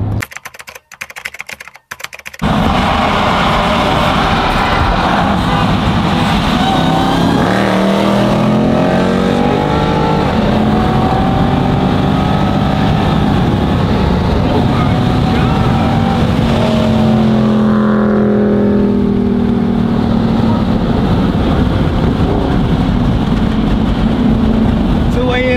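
Heavy trucks and traffic rumbling along a highway near Atlanta, a steady loud roar of passing vehicles with a voice briefly speaking over the din.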